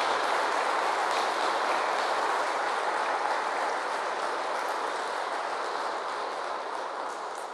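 A Mass congregation gives the priest a round of applause at a solemn feast for Saints Peter and Paul. Dense, steady clapping fills the whole stretch and eases off only slightly toward the end.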